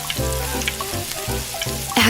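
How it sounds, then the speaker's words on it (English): Pomfret fish frying in oil in a tiny miniature pan over a small fire, a close, even sizzle with faint popping and a brief louder spatter near the end, no one speaking. "it's time to light the fire and fry our ingredients in oil"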